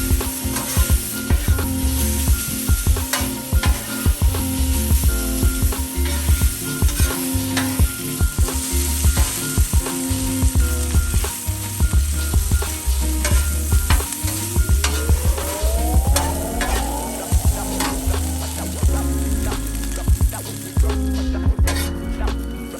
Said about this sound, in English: now I'm going down with my bacon. And so I'm just going to cook the bacon until it's pretty much done